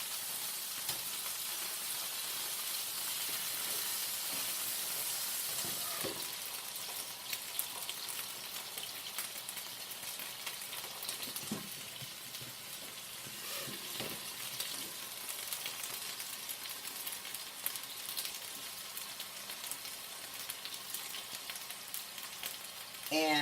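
A pork chop fries in a pan after being flipped, giving a steady, dense sizzle and crackle throughout, close and continuous, briefly louder at the start, with faint clatters of the pan now and then.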